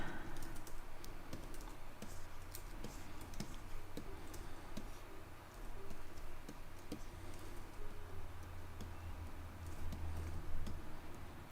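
Typing on a computer keyboard during a livestream chat, a continuous patter of quick, close clicking keystrokes with brief pauses, fairly quiet and with no talk.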